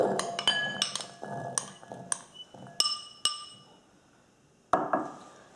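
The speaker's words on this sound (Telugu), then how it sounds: "ఇందులోకి మనము ముందుగా రెడీ చేసుకున్నటువంటి ఉడికించిన చెన్నా వేస్తున్నాను" Boiled chickpeas for chana chaat are added to a mixing bowl with a series of bright, close clinks and pings. The clinks come in quick clusters, then thin out into a few isolated taps.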